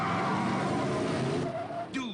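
Cartoon race cars roar past on a track in a dense, continuous engine blur, ending with a short rising tire screech near the close.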